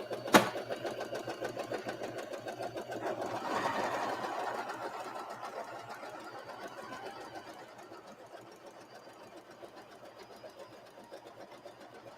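A sewing machine stitches fabric for a heater bag in a rapid, even mechanical whir that swells briefly, then gradually fades and slows.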